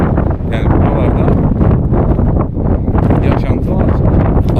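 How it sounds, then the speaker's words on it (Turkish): Low, rumbling wind buffeting the microphone throughout on Spil Mountain peak, loud and steady, with faint indistinct voices underneath. "Rüzgar sesi rahatsız ediyor mu bilmiyorum"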